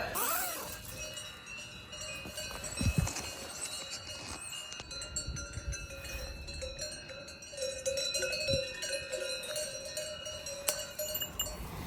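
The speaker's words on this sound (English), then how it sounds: "this has been the noise all night from the cows" Cowbells clank and jingle irregularly from cows outside at night near a town in the Alps, a continuous layered clinking of several bells at moderate distance, with no talking.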